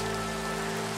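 Rain falls in Minecraft gameplay as a steady, even patter of drops on surfaces, with a faint sustained game tone beneath it and no talking.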